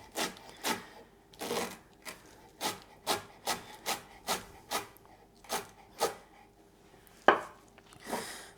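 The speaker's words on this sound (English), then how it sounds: "first I'm going to give that a rough chop" A knife roughly chops fresh cilantro on a wooden cutting board for salsa, about a dozen evenly spaced close strokes in a steady rhythm, with one sharper hit near the end.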